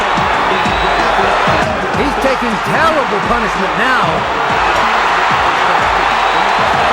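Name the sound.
boxing crowd cheering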